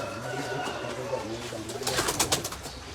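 Teddy pigeons kept for sale coo in soft repeated calls, with a burst of wing or scuffling noise near the end and a voice talking in the background.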